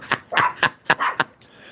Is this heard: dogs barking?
yes